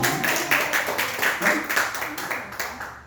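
A congregation claps during a Friday night church service, scattered rhythmic hand claps in a reverberant hall, moderately loud and continuous.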